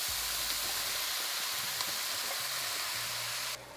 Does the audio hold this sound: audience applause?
no